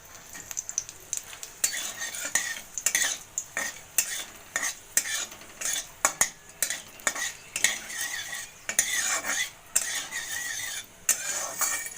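Dried red chillies frying in hot oil in a pan for a flat bean mash, a steady close sizzle broken by repeated sharp scraping and clinking from a utensil stirring against the pan.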